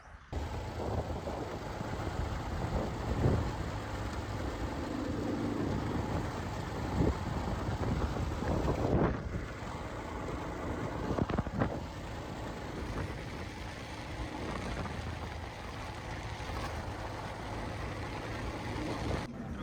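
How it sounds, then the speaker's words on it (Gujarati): A steady engine drone rolls on continuously, like a motorbike cruising along a road, with wind and rumble and no voices. "અત્યારે હું બાઇક લઈને જાઉં છું પૂછવા માટે"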